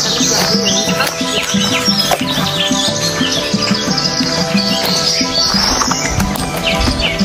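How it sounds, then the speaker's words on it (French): Birds chirping and twittering by the water on a hot day at Tavers, busy overlapping calls, close and fairly loud, over a steady background wash. "il y a des oiseaux, on est bien."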